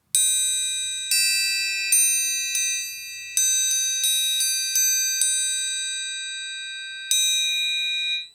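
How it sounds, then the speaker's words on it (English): Metal triangle struck with a beater, about a dozen bright, pure ringing hits at uneven intervals, each shimmering and decaying, close and clear with no talk. "let's try the able beater on the able triangle"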